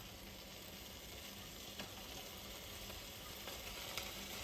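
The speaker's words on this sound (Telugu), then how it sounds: "బటర్ కొంచెం కరిగిన తర్వాత నేనైతే గార్లిక్ యాడ్ చేసుకుంటున్నా" Chopped garlic sizzling in melted butter in a pan: a steady, soft frying hiss runs throughout, with a few faint clicks from stirring and no talking.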